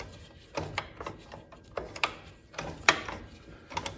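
A ratchet wrench tightens bolts on the fork collars of a snow bike, giving short bursts of quick, close clicking between pauses.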